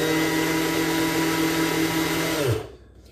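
A food processor whirs loudly and steadily while blending homemade mayonnaise, a close, constant motor drone with a humming whine, then spins down and stops near the end.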